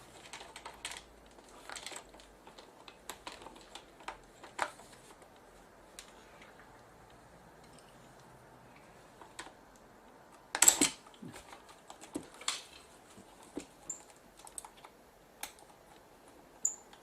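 Small screws being worked out of a Sony DSR-PD170P camcorder, giving scattered faint clicks and light metallic ticks with a few sharper taps, close and quiet with no talking.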